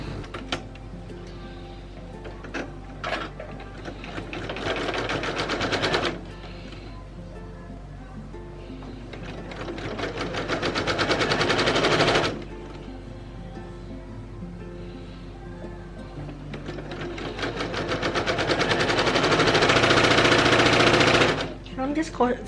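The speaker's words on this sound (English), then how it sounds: "I'm just sewing a 1/4 of an inch away from that jagged edge." Sewing machine piecing jelly roll quilt strips, three long runs of rapid needle chatter that rise and fall with short stops between, close, with speech over it.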